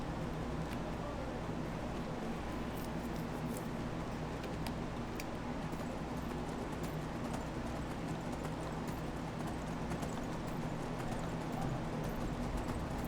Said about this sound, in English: horsey can't do that. Horsey makes weird sounds.